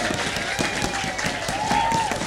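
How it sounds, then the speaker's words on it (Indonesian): An audience claps together at a school legal-awareness event, a dense steady burst of applause close by with a voice faintly mixed in over it. "tepuk tangan"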